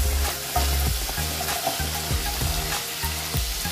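Onion stir-fried in a hot pan for chicken chilli, a loud continuous sizzle with a regular pattern of scraping stirs of a spatula against the pan.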